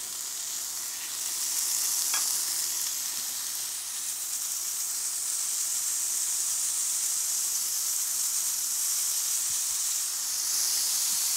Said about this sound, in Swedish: Vi låter det fräsa så det blir lite knorpigt